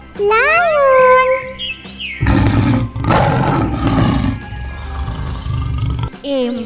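A lion roars loudly in several long, rough bursts, with a child's sing-song voice and bright musical tones before and after.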